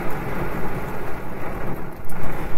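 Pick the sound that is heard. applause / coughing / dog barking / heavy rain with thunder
heavy rain with thunder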